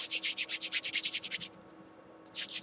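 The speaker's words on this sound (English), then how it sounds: "And I'm going to rub it. And it's dry felting." Wool is rubbed briskly by hand for dry felting, making fast rhythmic scratchy strokes, about a dozen in a row. After a short pause the rubbing starts again, close and fairly quiet.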